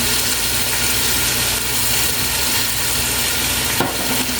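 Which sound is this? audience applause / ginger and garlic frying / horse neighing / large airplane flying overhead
ginger and garlic frying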